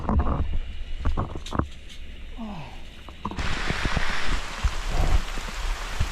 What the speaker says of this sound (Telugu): వర్షం అయితే బాగా ఎక్కువైపోయింది.